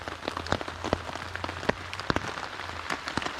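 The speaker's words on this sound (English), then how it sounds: "the rain has definitely picked up" Rain falls on a riverside campsite, a steady patter of drops with sharper individual taps striking nearby surfaces, with no voices.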